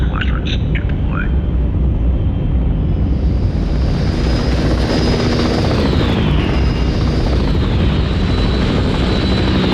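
A helicopter squadron flies low over a river, its dense, loud rotor and engine roar filling the whole stretch without a break, with a faint shifting whine as the aircraft move past.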